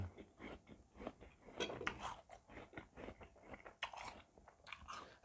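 Crisp, close bites and crunchy chewing of a red-fleshed apple, a run of wet crunches and mastication in an uneven rhythm, quiet and intimate with no talking.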